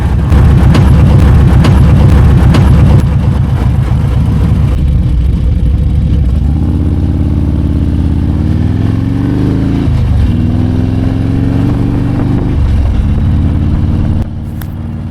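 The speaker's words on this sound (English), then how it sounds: "Is there anything worse sounding than downshifting your Harley with a performance transmission?" A 2003 Harley-Davidson Road King motorcycle with a performance transmission and FXRT fairing rumbles loudly up close while riding, its engine note dropping and shifting through downshifts with wind noise.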